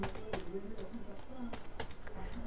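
Quick clattering keystrokes on a computer keyboard in short irregular bursts while writing code on Linux, close and fairly quiet, with a brief murmur of speech.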